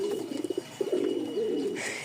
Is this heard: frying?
no